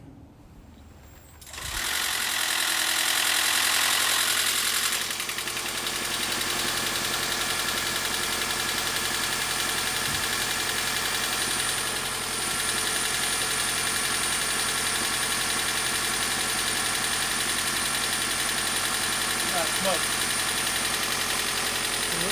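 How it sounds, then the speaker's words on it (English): A Toyota Prius engine, after a head gasket replacement, turns over and settles into a steady, loud idle that runs on continuously, with a faint voice speaking over it now and then. "Turn the engine on, get the heat going."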